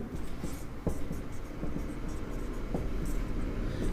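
A pen writing out a maths answer on paper or a board, soft scratchy strokes with occasional taps, steady and close under a faint background hum.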